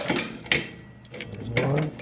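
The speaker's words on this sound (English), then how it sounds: "I'm trying to pull these set screws out of here." Metal tools work set screws loose from the pulley of a Craftsman snowblower under impeller repair, giving close, ratcheting mechanical clicks and scrapes with a sharp metallic knock partway through.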